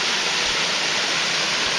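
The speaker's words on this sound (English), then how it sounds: "The exciting waterfalls of Missouri, flowing with water that falls." Steady broadband rush of a waterfall in Bartons Hollow, Missouri, along the Blair Creek section of the Ozark Trail, a dense continuous roar with no voices.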